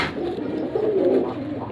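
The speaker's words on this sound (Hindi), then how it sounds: "ये पुरानी नस्लों के कबूतर हैं" Old-breed pigeons cooing close by in a steady, throaty run of low coos that swell slightly midway, with no talking.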